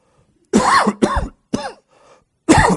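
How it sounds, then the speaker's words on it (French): Several throat-clearing coughs from a church audience in quick succession, a short pause, then one more, close and fairly loud with silence between. "Il y en a qui éclaircissent leur voix à ma place"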